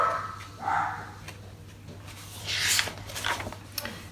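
A few dogs bark and yip indoors somewhere in the background, a couple of short sharp bursts spaced apart, faint and a little distant against a low steady hum.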